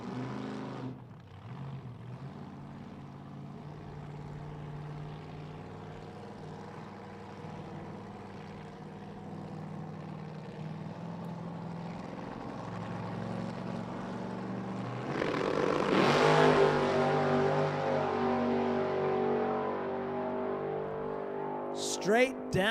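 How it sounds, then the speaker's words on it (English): Funny car Corvette on a drag racing test run: a steady engine drone at moderate distance swells into a louder roaring pass around the middle, then fades, with a brief burst at the end. "Paul Harris brings this Corvette up for another test run."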